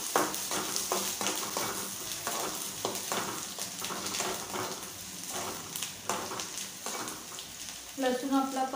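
Onion frying in a pan, with garlic added, gives a steady sizzle. A spatula stirs and scrapes at a regular rhythm throughout, close and moderately loud.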